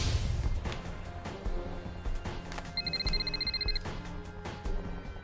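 A telephone ringing in a Turkish TV drama scene, a bright trilling ring bursting in briefly over background music and room sounds, with no talk during the ring.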